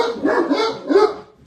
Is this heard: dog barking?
yes